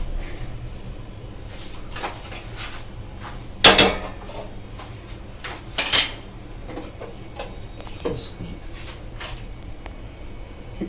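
A gas stove is lit and a wok is set on it to heat oil for samosas: quiet kitchen clatter with two sharp metallic bangs of cookware and light clinks in between.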